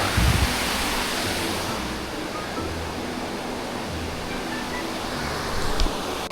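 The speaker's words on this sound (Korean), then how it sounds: "계곡 소리가 멋지게 들립니다" A mountain valley stream flowing under a bridge in Uiryeong County, South Korea: a steady, loud, broadband rush of water continuing without pause, heard alone with no talk.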